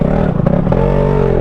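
A vehicle passing from the opposite direction on a hill road, its engine rising briefly amid a rattle while a steady engine drone continues close by.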